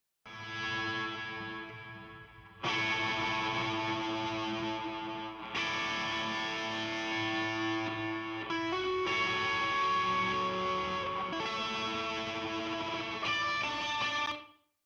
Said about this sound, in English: I'm going to play a little bit of this guitar, and I'll turn the ambience on and off